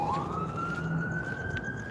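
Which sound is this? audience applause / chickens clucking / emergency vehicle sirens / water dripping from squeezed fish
emergency vehicle sirens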